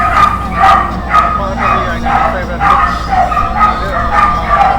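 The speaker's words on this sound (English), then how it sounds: "Those dogs are making lots of noise outside while I'm narrating." Dogs bark outdoors in a rapid, repeated series of yips and barks, fairly loud, while a person narrates over them.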